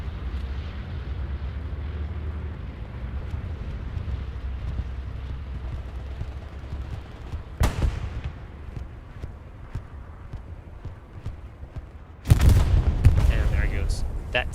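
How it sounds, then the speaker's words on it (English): A satchel charge detonating on a tank and repair station in the World War II game Hell Let Loose: low battle rumble with a sharp crack, then a loud, booming blast near the end that rolls on with debris. "we're just gonna sit tight here and watch as that satchel is gonna go off"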